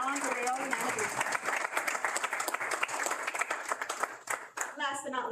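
Crowd applause greets a parade Grand Marshal, a dense sustained clapping from a large audience with cheering voices mixed in, holding steady before easing slightly near the end.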